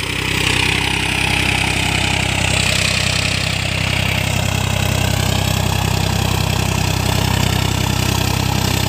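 A Farmtrac 60 T20 tractor fitted with a turbo idles with a steady, loud, low rumble and an even mechanical drone that holds unchanged throughout, close by, with no talking.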